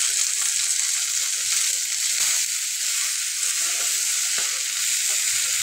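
Fenugreek leaves stir-fry in a hot pan, giving a loud, continuous sizzle that stays steady throughout, with faint scraping of stirring underneath.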